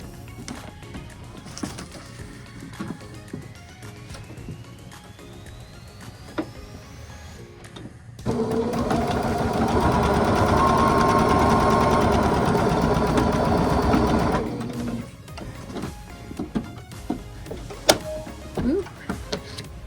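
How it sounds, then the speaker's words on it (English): Sewing machine stitching piece B5 of a foundation paper pieced quilt block, a steady motor whir running about six seconds after quiet handling, followed by rustling and clicks. "now let's sew B5"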